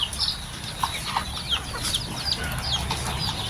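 Bulik chickens cluck and chirp in short, scattered calls, fairly close, over a steady low background hum.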